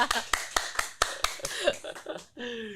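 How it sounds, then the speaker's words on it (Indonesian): An audience at an Indonesian talk session on Bank Indonesia internships claps, starting as a few separate sharp claps and thinning into scattered hand claps mixed with murmuring and brief voices toward the end. "Tepuk tangan sekali lagi, teman-teman"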